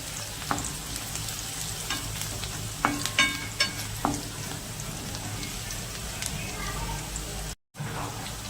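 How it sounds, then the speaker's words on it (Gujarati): Chopped onions fry in oil in a pan for a Kathiyawadi-style curry, giving a close, continuous sizzle with occasional clinks of stirring and a brief cut-out near the end. "ડુંગળીને આપણે બરાબર ફ્રાય કરી લેવાની છે દોસ્તો, એકદમ લાલ થઈ જાય ત્યાં સુધી।"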